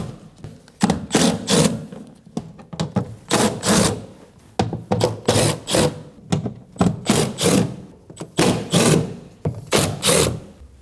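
A ratchet removes 10 mm bolts from the rear power window regulator of a 2011-2016 Kia Optima, heard up close as repeated rapid clicking bursts with short pauses between.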